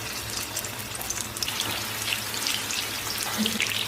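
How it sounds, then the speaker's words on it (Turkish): Meatballs sizzle in hot oil, a steady crackling fry with scattered pops and spits, moderately close and continuous, with no talking. "şimdi aynı yağıyla köftelerimi de kızartıyorum"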